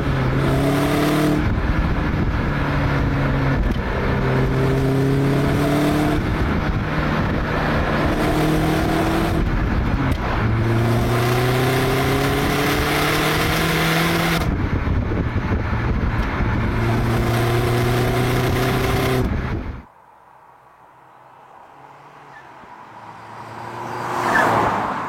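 A Vauxhall car engine drives and revs hard, loud and close, with rising and falling gear pulls over about twenty seconds before dropping away to quiet road noise and a faint swell at the end.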